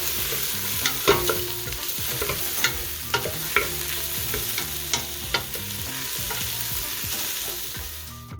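Mushrooms sautéing in a pot for fish stock, a steady sizzle broken by repeated scraping knocks of a spoon stirring against the pot, close and fairly loud.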